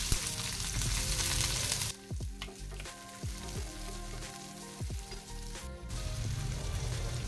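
Garlic and onion fry in a hot pan with a steady, close sizzle, broken by a few scraping stirs; the sizzle softens for a few seconds, then swells back to full strength.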